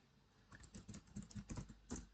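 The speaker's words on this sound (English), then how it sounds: "Let's just type this entire thing." Computer keyboard typing, a quick run of close, crisp keystrokes in irregular bursts, fairly quiet with no voices.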